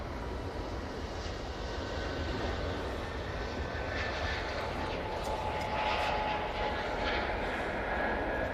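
Airliner at Manchester Airport heard as a steady, loud, broadband engine roar that holds throughout with no talking.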